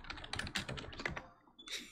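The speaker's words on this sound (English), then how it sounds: "Whereas I'm also typing it out at the same time." Rapid, irregular clatter of keys on a computer keyboard, typed close by with uneven bursts and brief pauses and no one talking.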